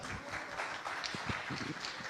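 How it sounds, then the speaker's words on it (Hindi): Audience applause at a live news stage event, a steady, dense wash of clapping filling the room and continuing throughout. "तालियां।"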